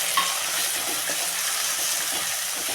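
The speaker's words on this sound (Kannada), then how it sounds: "ಈಗ ಟೊಮಾಟೊ ಮತ್ತು ಈರುಳ್ಳಿ ಎಲ್ಲ ಚೆನ್ನಾಗಿ ಫ್ರೈ ಆಗಿದೆ." Tomato and onion frying in a pan for okra palya, a steady close sizzle with light scraping stirs running underneath, no voices.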